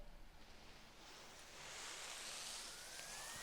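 A whoosh effect in a hyperpop remix of a pop song, a broad airy noise sweep that swells and brightens over a few seconds, with a faint rising tone near the end, heard alone.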